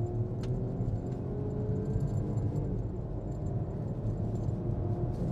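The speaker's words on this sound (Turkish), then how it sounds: "Hemen gaza basıyorum. İlk tepkisi hızlı değil ama gayet iştahlı hızlanmaya başladı." A 2023 Peugeot 408 picks up speed on a test drive. A steady engine drone rises gradually in pitch under constant road and cabin rumble, heard from inside the car with no voices.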